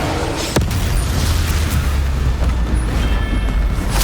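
A magic fire spell bursts in a fantasy action game, a loud booming blast over a dense roaring rumble and crackle that stays heavy throughout, with a sharp crack near the start.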